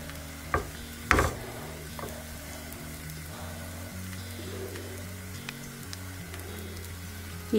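Egg mixture spread over a dosa on a hot pan, sizzling and frying steadily at close range, with a few sharp knocks and clinks of the utensil against the pan.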